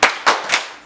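A group of people, likely an adult workshop audience, claps hands in unison three times, in sharp loud bursts about a quarter second apart, with no talking over them.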